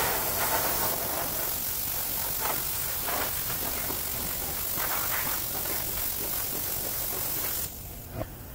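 Old primer spray gun with its pattern turned fully back at low pressure, spraying lacquer thinner to wash down a Case IH 7110 tractor, a steady close airy hiss that drops sharply near the end.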